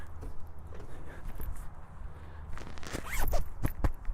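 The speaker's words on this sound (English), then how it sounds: "Zip that up a bit." A jacket zipper pulled up in a few quick rasping strokes near the end, after quieter rustling inside a tractor cab.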